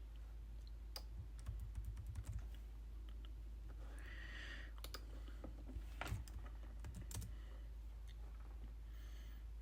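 Code being typed on a computer keyboard, quick light key clicks in irregular bursts over a steady low hum, faint and close, with no voice.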